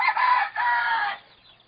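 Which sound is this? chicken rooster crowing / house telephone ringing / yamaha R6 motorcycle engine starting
chicken rooster crowing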